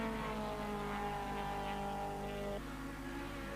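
A BMW and a Vectra super touring race car battling at Kyalami in a 1995 race, engines droning steadily with a tonal whine that drops in pitch partway through, heard at a distance under continuous engine noise.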